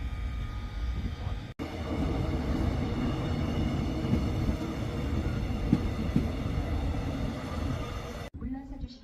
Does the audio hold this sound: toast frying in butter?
no